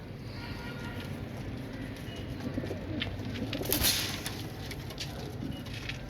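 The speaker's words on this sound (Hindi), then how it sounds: "सब अंबरसरे कबूतर हैं माशाल्लाह" Soft, steady cooing of Amritsari pigeons in a noisy outdoor setting, with a low continuous rumble and faint patter underneath.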